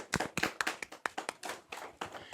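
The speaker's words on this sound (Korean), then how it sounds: "박수 한번 쳐주세요." Classroom students clap together during a math lesson, a brief burst of sharp, uneven handclaps at close range, lasting a couple of seconds.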